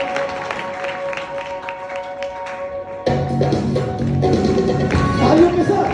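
Congregation applause at a church service, starting as light scattered taps and claps over a sustained tone, then swelling midway into fuller, louder clapping from a crowd that keeps going to the end.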